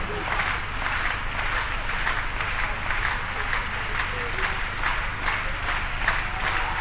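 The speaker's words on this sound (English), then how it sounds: "Great crowd support." A crowd at an athletics high jump championship applauds and claps steadily in a rhythmic, sustained wash of hands, fairly loud and continuous, with faint voices mixed in.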